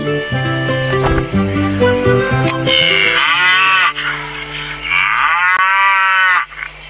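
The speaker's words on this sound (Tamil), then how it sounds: "பசு இப்படிதான் கத்தும்" Several loud, drawn-out cow moos, each a long low bellow, heard over cheerful background music.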